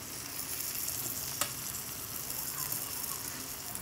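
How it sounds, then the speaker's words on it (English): Onion frying in a pan for pelaf gives a quiet, steady sizzle with one brief clink, close by and without talk. "let it fry a little bit"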